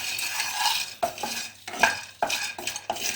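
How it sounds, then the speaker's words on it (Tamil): A utensil stirs and scrapes murukku ingredients being lightly roasted in a pan, making close, uneven strokes with occasional sharper knocks against the metal and no voices. "லைட்டாக வறுக்கணும், கொஞ்சம் சூடு வர மாதிரி."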